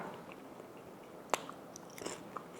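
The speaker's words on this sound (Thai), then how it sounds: "เดี๋ยวเราจะลองชิมหมูก่อนนะคะ" A single crisp bite into salt-fried pork belly with fried kaffir lime leaves, a sharp crunch followed by a few faint chewing crackles in a quiet room.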